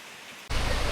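Heavy rain pours near Cholamala waterfall in Wayanad, Kerala, a loud broadband roar that suddenly swells halfway through and stays dense and close, with no voices.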